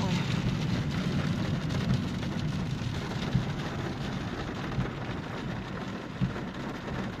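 Heavy rain pours down in Ryazan, a dense, steady hiss drumming on a car, with a few louder thuds and patters scattered through the roar.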